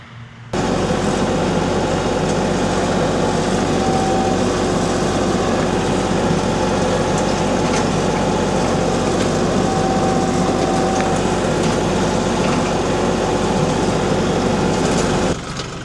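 A tractor dragging a box blade to break up an old asphalt driveway, heard as a loud, steady engine drone with scraping and rumble that runs unbroken for about fifteen seconds up close, with no talk.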